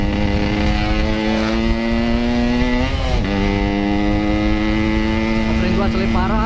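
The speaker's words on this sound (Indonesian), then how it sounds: "Kopling gua selip parah." Motorcycle engine with a badly slipping clutch, a loud steady drone close up that flares in pitch and flutters unevenly as the clutch slips, with a brief dip partway through, heard from the rider's position while touring.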